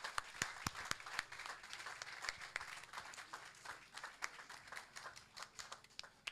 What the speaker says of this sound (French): applaudissez très fort pour l'Éternel des armées